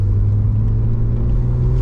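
A BMW E36 M3 5-speed coupe's engine rumbles steadily from inside the cabin while driving, a deep continuous drone with no break audible for a gear change.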